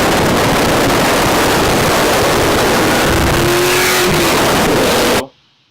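Supercharged Mustang V8 with JB long tube ceramic headers and a Bassani off-road X-pipe revving hard, a loud, dense roar with rising pitch sweeps that cuts off abruptly near the end.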